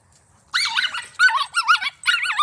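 Big dogs bark and yowl at each other in a rising, wavering exchange, close and loud in several bursts after a quiet start, with no talking.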